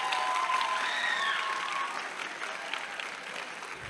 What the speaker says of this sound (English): So give them a round of applause real quick.